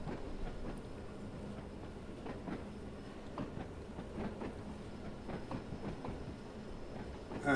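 Electric locomotive in Train Sim World climbing uphill at full power on the Baker Street line, a steady rumbling drone with rhythmic rail clicks and wheel clatter throughout, close and continuous.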